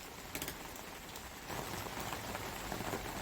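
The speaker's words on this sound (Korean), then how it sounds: "빗소리가 점점 거세지네요" Rain pattering on a surface outdoors, a soft continuous spatter of drops that grows denser and heavier partway through, fairly faint overall.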